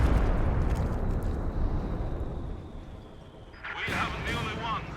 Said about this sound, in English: Over here on the left side, the flamethrowers eat that Stuka barrage